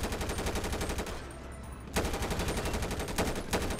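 Rapid automatic gunfire in GTA 5 roleplay, dense rhythmic bursts that run loud and steady, break briefly, then resume in sustained strings of shots with no talk over them.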